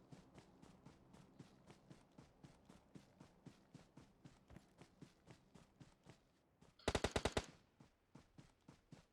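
Gunfire in the PUBG Mobile video game: a quick burst of five or six sharp, loud shots near the end, over a steady rhythmic patter of running footsteps.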